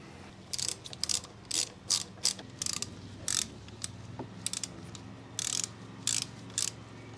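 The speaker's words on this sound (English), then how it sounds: "And now we torque them down with 25 Newton meters." Torque wrench ratcheting in short bursts while tightening fork bolts on a Harley-Davidson Low Rider ST, about a dozen clicking runs of varying length separated by brief pauses, close and clear over a low background hum.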